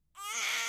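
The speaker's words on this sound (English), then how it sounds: "I think he's crying because he got stung by a bee." A baby cries after being stung by a bee, giving one loud, sudden wail that starts abruptly and holds steady to the end.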